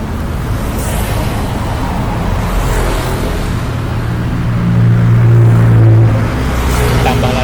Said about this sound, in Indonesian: Aktivitas kendaraan yang melintas di jembatan Mahakam cukup ramai.